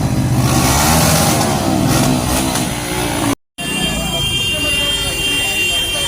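Motorcycle engines of a village youth political bike rally drone and rev steadily, fairly loud and close, with a brief dropout partway through.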